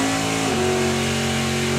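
A quiet street-driven drag racing car at a drag racing event, its engine running close by with a steady droning idle and a slight pitch change midway.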